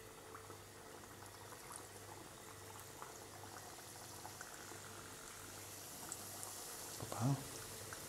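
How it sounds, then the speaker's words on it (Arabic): Qrioush pastry dough frying in hot oil that has been enriched with a spoonful or two of ghee, a steady low bubbling hiss running throughout with a faint repeating hum underneath and a brief louder knock near the end. "هنا الزيت تاعنا راه سخن وراح نبدأ نقلي"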